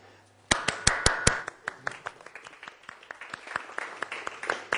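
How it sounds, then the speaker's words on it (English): Audience members at a talk on non-violence as an engagement strategy clap: a few loud, sharp claps open it, followed by a looser, scattered patter of many hands that continues to the end. "we might be clapping a bit more as we are used to because he likes when people clap"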